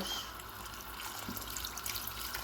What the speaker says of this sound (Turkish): su ekleyeceğim